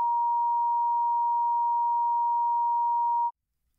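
A steady pure censor bleep tone holds for about three seconds and then cuts off abruptly into silence, with no voices around it.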